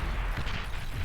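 Artillery volley firing in the strategy game Beyond All Reason, a dense continuous rumble of overlapping booms and blasts with steady loudness, no speech.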